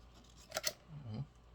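Scissors cut guitar shielding material in two quick, faint snips close by, followed by a soft rustle of the material.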